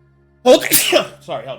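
A person lets out one loud, sharp sneeze in the middle of a tabletop role-playing session, and speech follows right after it.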